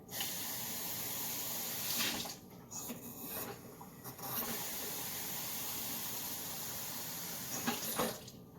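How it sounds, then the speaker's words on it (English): Tap water runs steadily into a pot, two cups for pasta, a soft continuous splashing hiss with a few brief interruptions and bursts of spray. "Now add 2 cups of water."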